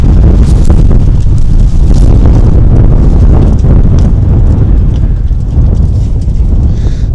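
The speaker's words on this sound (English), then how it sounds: "Oh, you can see the wind out here." Strong wind buffets the helmet microphone of a rider on a CFMOTO 800MT motorcycle near Jerilderie. A loud, constant low rumble roars right at the mic with no pause.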